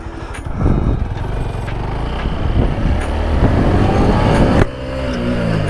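A KTM motorcycle ridden on a road gives a close, rumbling engine note that swells and revs with throttle changes, then eases off near the end.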